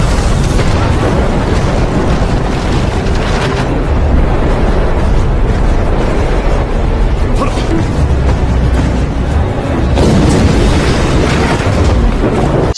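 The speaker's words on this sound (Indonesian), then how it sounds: "Sahei menembakkan meriam ke bagian samping kapal Bokaisen yang dinaiki oleh Nahdaeyo." Ship cannons firing and explosions during a naval battle in the film Rising Dragon, a dense, continuous roar of booms and rumbling blasts, loud throughout with no talk.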